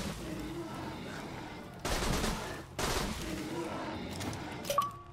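Gunfire from a weapon in Borderlands 2 comes in two dense automatic bursts, each about a second long, followed by scattered shots and a sharp metallic ping near the end, all over a low game background.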